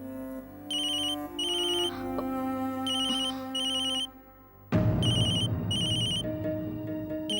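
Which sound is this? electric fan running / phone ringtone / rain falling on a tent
phone ringtone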